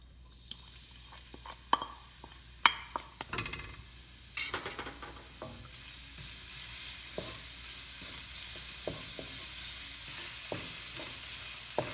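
Garlic fries in olive oil in a pan for pork binagoongan, a few sharp clinks and scrapes early, then a rising steady sizzle with occasional stirring taps.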